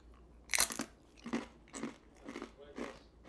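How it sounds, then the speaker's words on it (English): Someone bites into crunchy tacos with one loud crisp crunch, then several quieter crunching chews follow at a steady pace, all close and alone. "Crunchy tacos on both."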